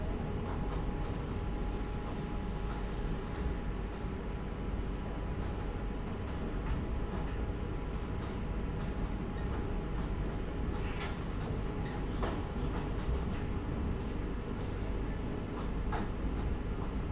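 The 26964 Udaipur City Vande Bharat Express pulls out of Asarva station platform 2, a steady low rail rumble with light ticking clicks carrying on throughout, no voices.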